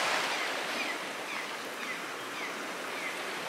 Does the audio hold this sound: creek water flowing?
yes